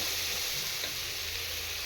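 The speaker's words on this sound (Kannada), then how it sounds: "ಕಾಳೆಲ್ಲ ಫುಲ್ಲು ಒಗ್ಗರಣೆಯಲ್ಲಿ ಚೆನ್ನಾಗಿ ಫ್ರೈ ಆಗಿದೆ" Steady hissing sizzle of sprouted beans frying in hot oil tempering in a pan, continuous and close, with no talking.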